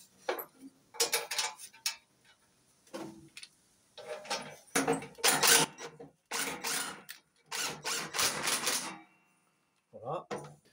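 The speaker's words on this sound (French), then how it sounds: "Je remets la tôle de protection." Metal protective guard being refitted on a Husqvarna mower, with repeated close clanks, rattles and scraping bursts in uneven clusters separated by short pauses.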